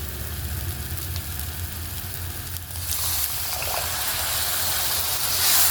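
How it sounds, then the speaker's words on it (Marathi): Water is poured into masala frying in oil for a simple chicken rassa, turning a steady low hiss into a louder, broader sizzle and gush midway. No one talks over it. "मसाल्याला तेल सुटायला लागलं आहे मी आता थोडंसं पाणी टाकून घेणार"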